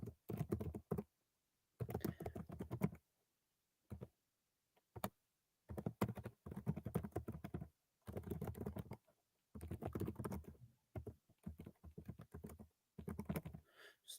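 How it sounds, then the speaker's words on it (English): Computer keyboard typing in short bursts of rapid, close key clicks separated by brief pauses, clear and alone without any talk. "Here's some typing here."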